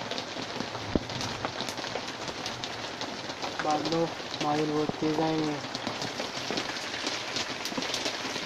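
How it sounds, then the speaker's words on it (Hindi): Heavy rain pours in a dense, continuous hiss that stays loud throughout, with someone speaking over it in Hindi. "बारिश बहुत तेज़ हो चुकी है"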